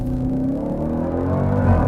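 Supercharged V8 in a Jeep Grand Cherokee, 707 horsepower, launching hard from a stop: a loud, deep, close engine roar whose pitch climbs steadily as it accelerates.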